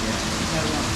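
Rain falls steadily during a motorbike ride toward Sembalun on Lombok, a dense, even hiss of drops with no breaks, close and fairly loud.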